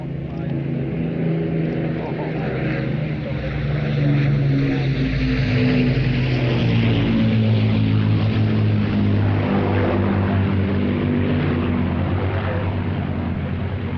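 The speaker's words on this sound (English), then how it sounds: "The flight's Lancaster wears the markings of aircraft Echo Echo 139, the Phantom of the Ruhr" An Avro Lancaster bomber flies past at a seaside airshow, its piston-engined propellers making a steady, loud, deep droning rumble that holds for the whole stretch without a break.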